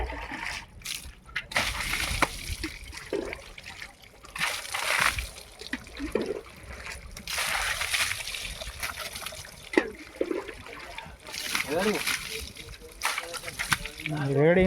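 Water splashing and trickling while a car is washed by hand, in irregular bursts of splashes and pours, with people talking nearby.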